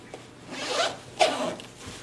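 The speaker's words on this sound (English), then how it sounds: "We'll just zip this up." The zipper on an Away carry-on suitcase is pulled closed in two quick strokes, with a short pause between them, close and fairly quiet.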